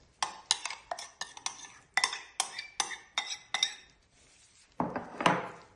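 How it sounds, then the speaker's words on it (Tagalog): A utensil stirring sauce in a pan with cooked cauliflower clinks and scrapes in quick rhythmic strokes, about a dozen sharp knocks, then a short pause before a final rougher scrape. "ngayon imimix ko na tong sauce"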